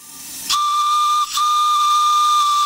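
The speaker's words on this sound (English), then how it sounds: "With 20 psi on the clock, the whistle blows quite well." A coal-fired model steam engine boiler at 20 psi blows its whistle: a loud, steady shrill tone with hiss, briefly interrupted once, then sustained.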